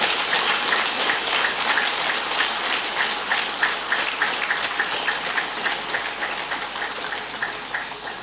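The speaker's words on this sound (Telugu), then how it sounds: "గట్టిగా చప్పట్లు కొడతాం." An audience at a spiritual discourse clapping loudly and continuously, a dense steady patter of many hands filling the room without pause, no speech over it.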